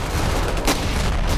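Ravenfield battle gunfire, a steady dense roar of shots and distant artillery booms with one sharper crack in the middle, loud and continuous throughout.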